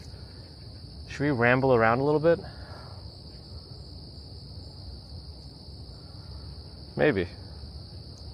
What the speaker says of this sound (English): The crickets are cricketing.